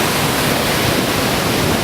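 Steady, loud rush of mountain creek water flowing near Sicamous, a dense, continuous broadband roar with no pauses and no voices.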